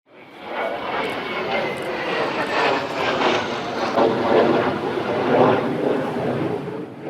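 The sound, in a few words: F-16 fighter jet aircraft engine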